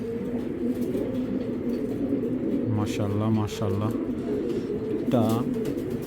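A male Tiger Grizzle racing pigeon coos in a few low, throaty phrases close by, with a voice speaking over and around the calls.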